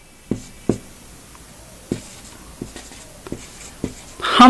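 Pen strokes forming an Arabic letter on a writing surface, a series of short, sharp taps and scratches spaced irregularly with quiet gaps, close to the listener, ending in a brief louder rustle.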